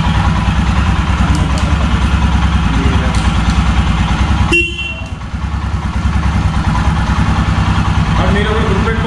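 A motorcycle engine idles loudly and steadily after a key start, its rumble dipping briefly midway before settling back to an even idle.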